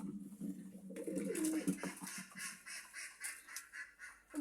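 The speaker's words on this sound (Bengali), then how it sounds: "খাকি কবুতর" A khaki racing pigeon in a loft gives soft cooing calls amid other birds' chatter and light rustling, fairly quiet and intermittent.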